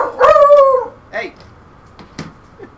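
A dog lets out a drawn-out, howling bark followed by a few shorter yips and whimpers, close and loud.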